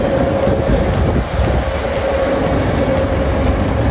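Steady rumbling train noise with a constant hum fills the whole stretch, a train running through Étienne Marcel metro station in Paris, with no voices.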